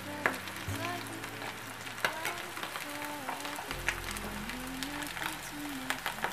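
Calamari deep frying in hot oil gives a steady, busy crackle and sizzle with scattered pops, while a voice talks over it throughout.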